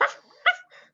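A person's voice imitating a dog barking frantically, two quick yelping barks followed by a softer whine, close and dry in the room.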